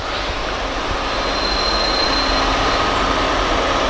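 A freight train grinds slowly uphill through a snowy whiteout at a siding, giving a steady, continuous rumble with a faint high wheel squeal running through it, loud and unbroken for the whole stretch.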